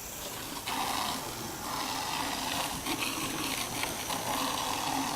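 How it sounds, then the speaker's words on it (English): A hose sprays water to rinse off cleaning boards after foam equipment is flushed, a steady broad rushing hiss that continues throughout without pause. "Go ahead and spray off the boards too."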